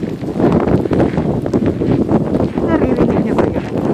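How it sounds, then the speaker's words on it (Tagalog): Strong blizzard wind gusts buffet the microphone outdoors in a loud, continuous roar, with a voice speaking over it. "Oh my God, ang lakas ng hangin."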